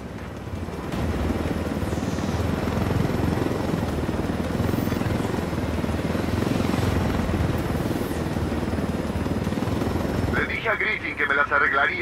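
A helicopter in Ghost Recon Wildlands thrums with a loud, steady rotor drone for most of the stretch, then a burst of different game sounds cuts in near the end.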